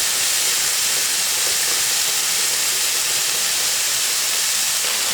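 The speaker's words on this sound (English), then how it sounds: "Adding some more wine." Wine poured into a hot pan of mushroom risotto sets off a loud, even hiss of steam and sizzle that holds steady for several seconds without a break.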